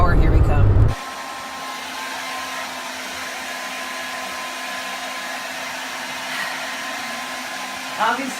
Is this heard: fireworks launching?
no